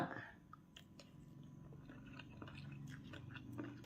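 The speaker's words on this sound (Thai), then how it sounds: "มาเด้อจ้ากินตำบักฮุง แซ่บแซ่บยั่วยั่ว" Spicy green papaya salad being eaten, with soft crunchy bites and wet chewing close to the mic, a steady series of small crisp clicks over a quiet background.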